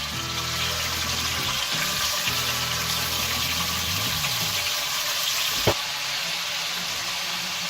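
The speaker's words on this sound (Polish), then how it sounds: "Teraz jak mięso nam się smaży" Meat sizzles steadily in hot lard for plov, a constant crackling hiss with a sharp clink partway through.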